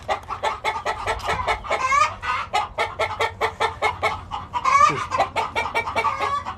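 A farm rooster with a slightly injured leg clucks close by in a rapid, steady run of short calls, with a couple of louder squawks, loud and clear with no talk over it.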